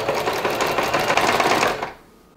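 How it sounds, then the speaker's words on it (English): A sewing machine runs steadily, stitching a straight windowpane quilting line along a seam through layered quilt fabric, a fast, even mechanical chatter up close that cuts off at the end as the needle stops. "I'm going to align the edge of the presser foot with that seam and then stitch a straight line"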